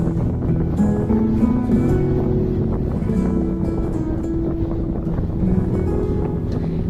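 A RoRo ferry crossing the open sea toward Lingga Island, Indonesia, its deck crowded with motorbike riders. A steady engine drone and rushing sea wind fill the whole stretch at a constant level, with no talking.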